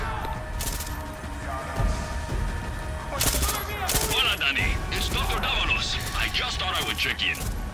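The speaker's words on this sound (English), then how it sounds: "Is that gunfire? Yes! Yes, it is!" Far Cry 6 video game gunfire: bursts of automatic shots and sharp cracks rattle through a loud battle scene, mixed with mechanical clatter and shouting voices.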